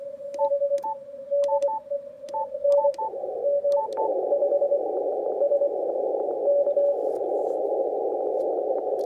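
Morse code CW signal received on a Yaesu FTdx5000MP radio, heard as clipped, regular beeping tones in a keyed rhythm that blur into a continuous hissing tone with faint beeps as the filtering changes.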